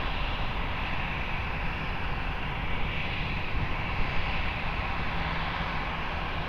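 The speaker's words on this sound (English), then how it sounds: "Airbus 321, rolling for departure" An Airbus A321 rolls for departure at Lisbon Airport, its engines producing a steady, broad roar that holds at an even level throughout, with no voices over it.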